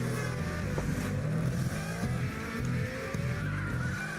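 A racing video game car engine revs and roars steadily without pause, loud and close, with shifting tones as it accelerates; no voices over it.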